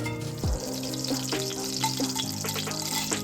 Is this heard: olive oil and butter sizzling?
yes